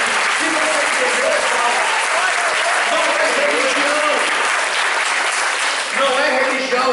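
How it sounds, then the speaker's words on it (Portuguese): Congregation applause at a Portuguese-language church sermon, a sustained, dense wash of clapping filling the hall, with faint voices mixed in. "Se você entendeu, aplauda."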